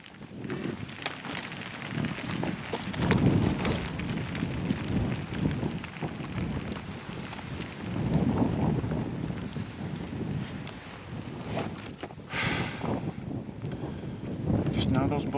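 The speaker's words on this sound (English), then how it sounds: "The wind's blowing about 30 miles an hour." Strong wind of about 30 miles an hour buffeting the microphone outdoors during a big-game hunt, gusty rumbling that swells and fades repeatedly, with someone talking over it.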